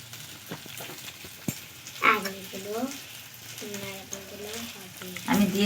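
Chana dal frying on low heat in a pan gives a soft, steady sizzle with scattered stirring scrapes, while a voice talks over it at intervals.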